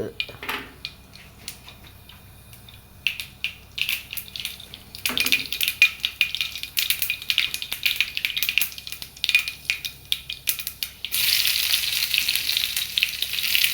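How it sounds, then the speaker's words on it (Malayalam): Mustard seeds and fenugreek spluttering in hot oil for a curry tempering, with quiet crackling that builds into a denser, louder sizzle with sharp pops, heard close and mostly alone. "ഇനി കടുകും രണ്ട് ഉലുവായിട്ട് ഞാൻ വറതാളിക്കും"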